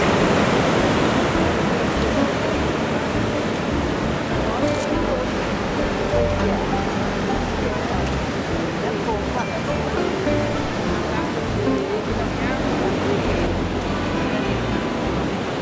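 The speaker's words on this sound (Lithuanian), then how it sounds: "Atlanto vandenynas prie Porto" Atlantic Ocean surf near Porto rolls in as a continuous broad roar of breaking waves, loud and steady throughout, with faint voices now and then beneath it.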